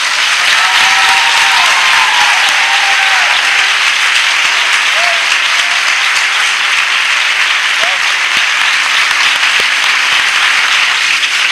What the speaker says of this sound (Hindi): क्या हम अपने प्रभु के लिए एक अच्छी ताली बजा सकते हैं?